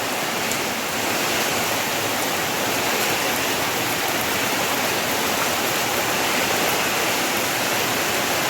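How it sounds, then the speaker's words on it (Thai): Heavy rain pours down steadily in a rural setting beside a buffalo pen, a dense, unbroken roar with wind in it, loud and constant with no one speaking. "ฝนตกยางแรงในบ้านลุงเบิร์ต"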